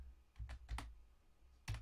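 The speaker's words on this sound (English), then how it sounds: "I just need to put in a sequence of keys" Computer keyboard keys are pressed while Pacman is being played, giving four or five quick, close, fairly quiet clicks in an uneven sequence over a low background hum.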